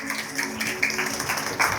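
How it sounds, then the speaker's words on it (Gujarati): A gathering of village daughters at a reunion event gives a burst of applause, dense steady clapping filling the whole moment at moderate volume with no clear speech over it. "એટલે એકવાર જોરદાર તાળીઓ આપ સૌના માટે થઈ જાય"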